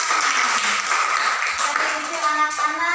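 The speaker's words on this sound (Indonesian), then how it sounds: "Ya, tepuk tangan." Classroom of first-grade children clapping their hands together, a busy patter of many small claps under children's voices, close and fairly loud.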